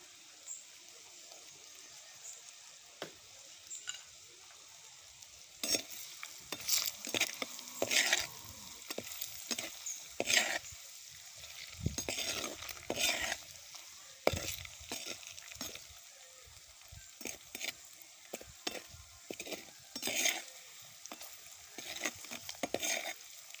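Boiled eggs fry with spices in a pan, a soft sizzle joined by frequent sharp scrapes and taps of a spatula stirring against the pan.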